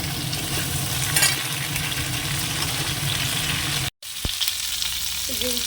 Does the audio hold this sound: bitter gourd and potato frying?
yes